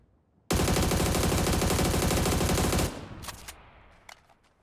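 AUG assault rifle fired full-auto while crouched, fitted with a compensator and half grip in PUBG: one loud, unbroken burst of rapid shots lasting over two seconds, followed by a few fainter echoing clicks and tail sounds.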